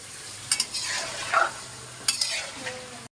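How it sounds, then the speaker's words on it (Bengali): Spiced khichuri being stirred and fried in a pot, with bursts of scraping spoon strokes over a steady sizzle, close and moderately loud. "এবার আর একবার মিলাই দেব আমি পুরা খিচুড়ি রান্না করার ভিতরে"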